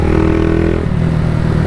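A small 160 cc motorcycle tuned with launch control and pops-and-bangs, heard up close as a loud, buzzing held rev that drops off abruptly, then a lower rough idle with faint crackle.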